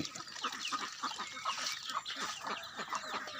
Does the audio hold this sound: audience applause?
no